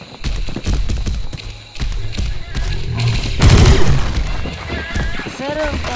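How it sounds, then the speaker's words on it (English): Dino laser beam shots in a video game land as repeated dull thuds and booming bursts, with a heavier cluster in the middle, under near-constant talking. "That's right. A dino laser beam."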